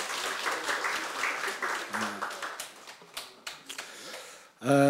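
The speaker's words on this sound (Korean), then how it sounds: "우리 하나님 앞에 영광의 박수를 돌리겠습니다" A church congregation applauds during a Sunday morning worship service, a crackling wash of many hands that comes in waves and fades, ending with a burst of sustained tone.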